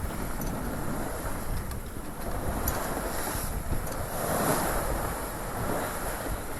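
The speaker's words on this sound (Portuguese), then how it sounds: "com o barco ali nas mãos e o som só do vento e do mar" Wind buffeting the microphone and sea waves washing against a small sailboat on the open sea, a continuous rushing roar with gentle surges, close and moderately loud.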